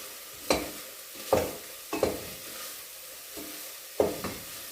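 Meat with grated onion and tomato being stirred in a pot, five distinct scraping stirs at roughly one-second intervals over a soft background sizzle, close and without talk.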